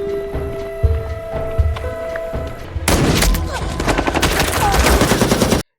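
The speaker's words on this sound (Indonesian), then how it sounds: "baku tembak pun tak terhindarkan" Sudden bursts of rapid machine-gun fire erupt in a shootout, loud and sustained after a quieter stretch with scattered thuds, shots crackling in dense succession until cut off.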